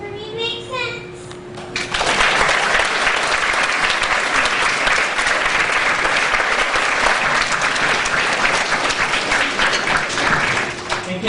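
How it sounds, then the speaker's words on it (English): A school auditorium crowd at a student council election bursts into loud, sustained applause after a brief stretch of someone speaking, dense clapping filling the rest of the clip with scattered cheers. "And can we please have another round of applause for our 4th and 5th"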